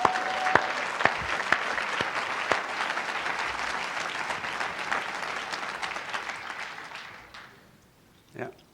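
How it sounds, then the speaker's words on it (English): Applause from an audience at a Narcotics Anonymous convention in Virginia, a dense steady clapping that runs for about seven seconds before fading out, with voices mixed into the crowd noise. "Let's give them a clap,"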